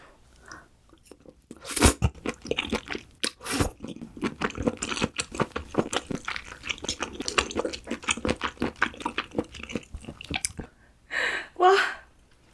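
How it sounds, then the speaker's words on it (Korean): Spicy braised seafood is eaten up close: a leg is bitten and chewed with sharp crunches, wet squishes and crackles in irregular bursts, with brief quiet pauses before and after. "다리 하나만 잘라서 먹어볼게요."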